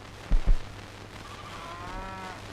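A cow lows in a drawn-out, wavering moo that rises near the end, preceded by two dull thuds close by and heard alone without speech.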